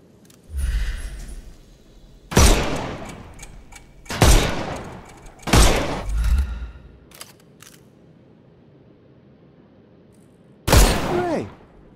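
Video game gunfire shoots armour off enemies: several loud, separate shots or short bursts spaced a second or two apart, each with a sharp crack and decaying tail, then a final burst after a pause.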